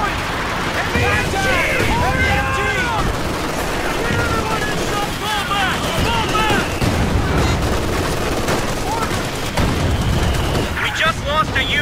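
Machine gun fire in Company of Heroes 2 sounds as rapid, continuous bursts of gunfire amid a chaotic battle, with booming explosions and frantic shouted voices over the din.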